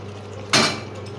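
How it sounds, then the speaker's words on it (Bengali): Raw potatoes tumble into a pot of simmering mutton curry, making one short, loud clattering thud over a faint steady kitchen hum. "এবারে আমি আলুগুলো দিয়ে দেবো।"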